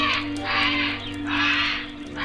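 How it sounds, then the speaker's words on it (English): Agitated birds in a large aviary at the corner of a house squawk in repeated harsh bursts, three or four waves of loud cawing over a steady low hum. "Something had disturbed the birds."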